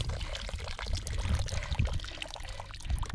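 Water running from a garden hose into a small dug trench around a mango tree in an orchard, a continuous close pouring and gurgling flow with slight surges.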